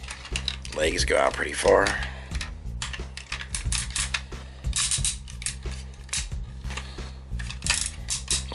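Ratchet joints clicking on a Transformers MP-22 Ultra Magnus figure as its legs are posed, sharp plastic clicks coming in quick bursts close up, with someone talking over them.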